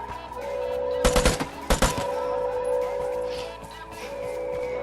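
Two close bursts of rapid automatic gunfire in the video game Vigor, sharp cracks followed by a lingering engine-like hum and quieter background game sounds.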